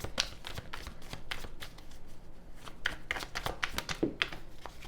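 Tarot cards being shuffled by hand, a rapid series of crisp riffling and slapping bursts repeating throughout, close and moderately loud with no talking.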